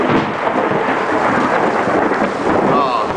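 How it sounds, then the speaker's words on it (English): Hail storm in Round Rock, a dense, steady roar of hailstones pelting surfaces outdoors with no letup, mixed with heavy rain and rumbling. "You can go out here and get hit by some hail."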